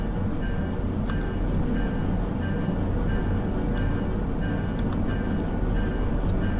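A train rolls steadily in the railway simulator game Derail Valley, with a constant low rumble of wheels and machinery and faint recurring clicks and higher tones above it, with no voices.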